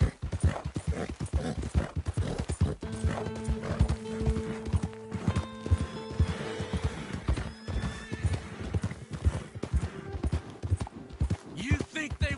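Horse hooves clip-clopping in the video game Red Dead Redemption II, a steady rhythmic trot close by with occasional neighs, running under spoken dialogue and a low musical drone.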